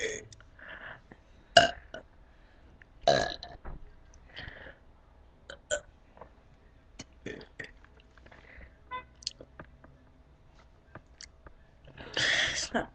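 Burping during a contagious burp contest: a string of short, close belches and gulping sounds scattered across the clip, with a louder, longer burp near the end and quiet voices between.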